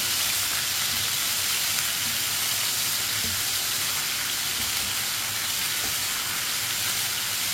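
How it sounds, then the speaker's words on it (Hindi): Chicken frying in a pan with karela while stirred with a spoon makes a constant, close, crackling sizzle like heavy rain, with faint scattered ticks and no talking. "चिकन को भी चम्मच चलाते हुए फ्राई करना है"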